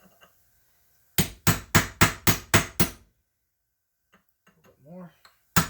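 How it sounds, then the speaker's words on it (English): Seven quick evenly spaced hammer strikes on a chisel staking the flange of a nut on a front-wheel-drive manual transmission, loud and close, then quiet with a brief spoken comment near the end. "just take a chisel and just kind of bend this little flange at the top of the nut into that recess"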